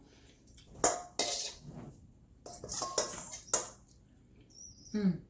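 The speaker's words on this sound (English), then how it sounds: "Don't mind me just making the bowl clean." A metal utensil scrapes and clinks against a bowl while shrimp fajitas are dished up in a home kitchen: a series of short, bright clatters and scrapes in irregular rhythm, fairly quiet with no talk.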